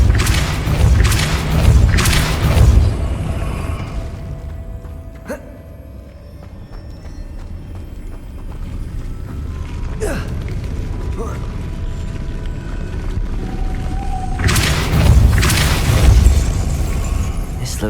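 In Hogwarts Legacy, the Depulso spell lands with a deep booming thump, first as a heavy low burst, then with mechanical clanks and another loud rumbling boom later, while a voice speaks now and then.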